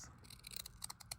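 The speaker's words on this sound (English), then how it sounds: "Yeah, I need to trim it just a little bit." Scissors make a few quick, soft snips through paper while trimming a piece for a junk journal shaker cover, faint and close, with no talk.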